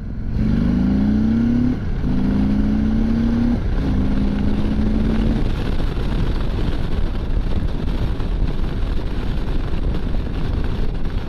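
Indian Sport Chief motorcycle pulling hard from second gear toward 70 mph, its engine note climbing through rising gear pulls in the first half, then buried under a constant roar of wind rush at speed, with no talk.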